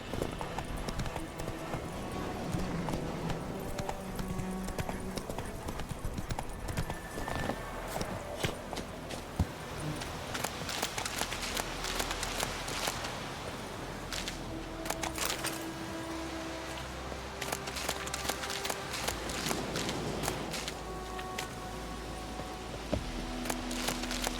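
Geralt's horse Roach galloping in The Witcher 3: The Wild Hunt, a continuous quick clip-clop of hooves with in-game ambience and occasional voices over the top.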